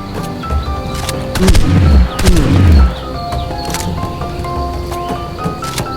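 In the mobile video game Ark Mobile, several scattered gunshots crack in pairs and singles over a background of tonal game music and rumbling creature noises.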